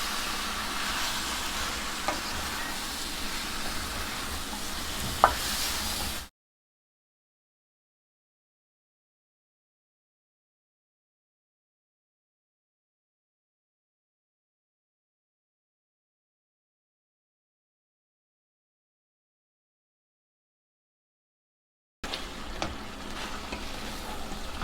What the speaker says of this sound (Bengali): মাংসের সাথে লাউ কষিয়ে নিব, আলু দিয়ে দিলাম, ভালো মতো এর সাথে মাংসের সাথে কষিয়ে